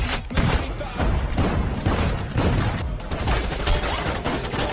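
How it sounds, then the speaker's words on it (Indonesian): Rapid bursts of gunfire crackle in a police shootout scene from the film Bha Bha Ba, dense repeated loud shots and thuds filling the whole stretch. "di tengah baku tembak yang masih berlangsung"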